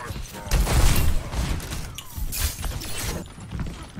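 Gunfire and impacts from an Overwatch 2 match, a dense, chaotic mix of repeated shots and hits at fairly loud level throughout, with a voice talking underneath.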